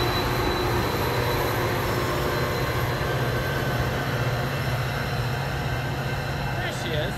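A train rolls past at the railroad tracks, a loud, continuous rumble and clatter of wheels on rail with faint squealing, sustained for the whole stretch.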